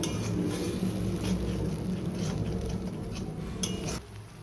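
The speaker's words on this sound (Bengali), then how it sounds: "এখন মশলাটা দিয়ে কষিয়ে নেব।" Spice paste stir-fried in a pan for potol paneer, with a low steady sizzle under intermittent clinks and scrapes of a utensil against the pan, fading quieter near the end.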